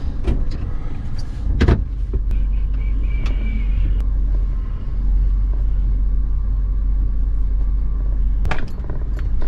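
A van slowly reverses out of a tight parking spot between two cars, its engine idling low and steady throughout, with a couple of sharp clunks near the start and end.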